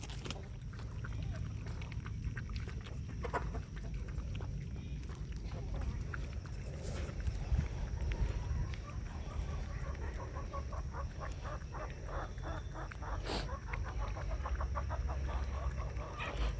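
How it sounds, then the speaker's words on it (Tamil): Peruvidai chickens, among them a newly bought white hen, cluck and call in a steady mix over a continuous low background hum, with bursts of sharper clucking in the later stretch. "ஒயிட் கலர் கோழி நம்மக்கிட்ட இல்லை பெருவிடையில், அதனால் இது வந்து இப்போ புதுசாக வாங்கியிருக்கேன்"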